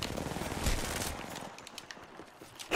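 Rapid automatic gunfire in a fast-paced shooter video game, loud and dense at first, then thinning into scattered distant shots with a final close burst.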